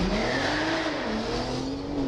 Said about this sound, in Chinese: 齐浩洋把车子引擎拉到发出爆炸般的声音